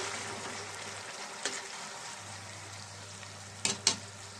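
Chopped tomatoes frying with ginger garlic paste and green chillies in a pan for a cauliflower potato curry, a soft steady sizzle with a low hum beneath and a few sharp stirring clatters near the end.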